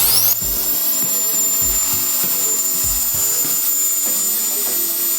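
A powerful cordless blower roars continuously at close range, blasting water droplets off a car's hood after a wash, with a high steady motor whine and a few low thumps underneath.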